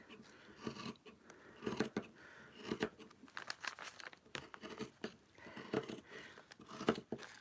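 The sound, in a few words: scissors cutting handwoven fabric along the fold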